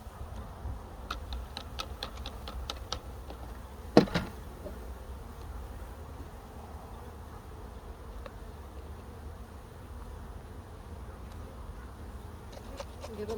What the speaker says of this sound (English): Pretty confident I have enough bees here, so I'm going to dump them into this.